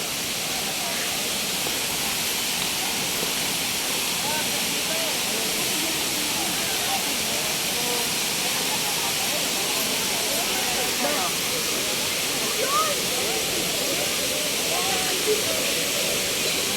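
Hinulugan Taktak waterfall in Antipolo, a steady broadband rush of falling water filling the scene without pause, with faint voices and activity underneath.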